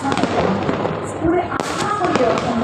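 Fireworks bursting overhead at a public festival event, with a loud, continuous crackle and thumps, while someone talks over it.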